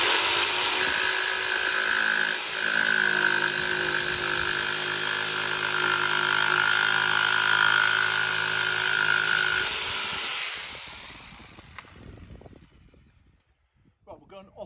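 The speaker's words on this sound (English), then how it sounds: "Now I will jigsaw that out." A jigsaw cuts a profile into a board with a loud, steady buzzing whine that runs for about ten seconds, then stops. Its winding-down rattle and a few light handling knocks follow.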